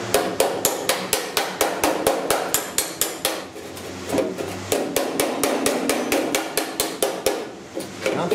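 A hammer beats the rusted upper cowl sheet metal of a 1969 Chevy C10 pickup against a flat-faced dolly, a rapid, steady stream of close, sharp metallic strikes.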